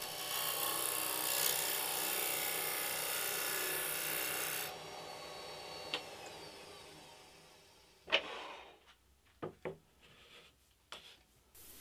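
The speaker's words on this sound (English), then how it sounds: "using a skew as a scraper, I fine-tune the sun to fit into the blank." Skew chisel used as a scraper against a spinning segmented wood bowl blank on a lathe, giving a steady close raspy scraping hiss that stops partway, followed by scattered knocks and brief handling sounds.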